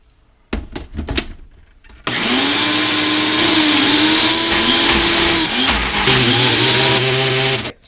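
Toasted walnut hummus whirring in a Ninja blender: a loud, steady motor drone with a churning tone that shifts as the thick mixture moves, starting after a few quick knocks and handling clatter.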